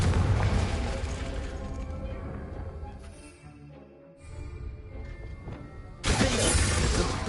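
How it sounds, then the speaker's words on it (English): A Confringo blasting spell exploding in Hogwarts Legacy: a loud, crackling burst with shattering debris that decays into a rumbling tail, followed after a lull by a second sudden, bright, crashing blast. "Confringo."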